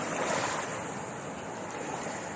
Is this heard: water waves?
yes